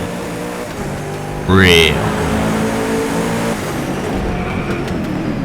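A tuned race car engine in the DRIVECLUB racing game roars up through a sharp rising rev, loud and close for a moment, then drops back under steady engine drone while a voice speaks a single word.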